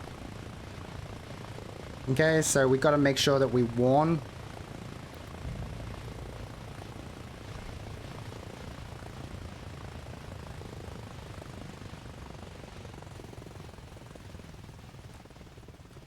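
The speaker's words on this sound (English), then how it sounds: "you can see that the chopper is actually lifting." Helicopter rotor and engine drone in the video game Arma Reforger as the chopper lifts off, a steady broadband rumble running the whole time, with someone talking briefly over it near the start.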